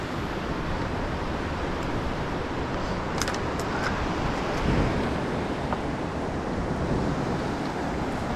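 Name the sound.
river flowing at Ohiopyle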